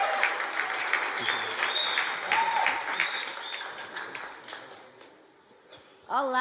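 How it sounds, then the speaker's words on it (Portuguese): A church congregation at a Sunday family service applauds in a sustained wash of clapping that gradually fades. A voice begins speaking at the very end. "Vamos aplaudir a nossa irmã Fernanda aí, amados."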